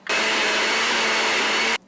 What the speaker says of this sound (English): And we're going to blend.